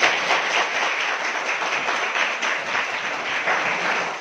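An audience claps for Neha Patil at a Savitribai Phule birth anniversary event: dense, continuous applause from a crowd, loud and sustained throughout.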